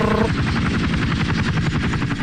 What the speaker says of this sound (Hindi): Helicopter scene.